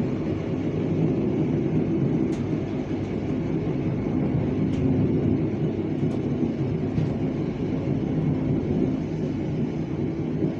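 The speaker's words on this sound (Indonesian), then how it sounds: "Ada kereta lagi tuh yang akan masuk." A train arriving at a station rumbles steadily nearby with a constant low roar and a few faint squeaks and clicks.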